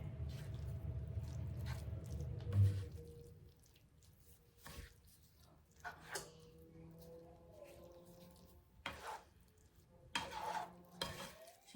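A spoon stirs a wet taco bake mixture with cheese in a dish, producing squishy scraping and occasional clinks against the dish, first as a steady low churning, then as intermittent knocks and scrapes.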